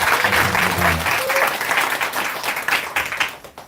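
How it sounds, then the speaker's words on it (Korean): Applause from a church congregation at a revival service, a dense sustained clapping that fills the space and fades out near the end. "우리 박수로 감사의 마음을 전하겠습니다"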